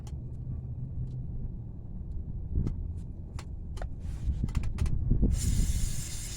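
Fluid Film aerosol lubricant sprayed during wheel bearing work on a 2005 Honda Civic LX in a parking lot, a sustained close hiss that swells louder near the end, with scattered metallic clicks over an outdoor rumble.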